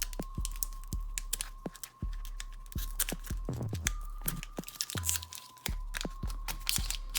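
Hockey card packs being torn open by hand, with crinkly foil wrappers ripping and crunching in a quick, close series of sharp tears and crackles, no talking.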